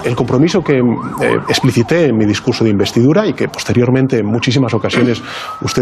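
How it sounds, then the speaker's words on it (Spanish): Police sirens wail faintly in the background of a Spanish TV interview with the President, a steady rising tone sitting beneath continuous, loud close-up male speech throughout. "se escucharon de fondo sirenas de policía"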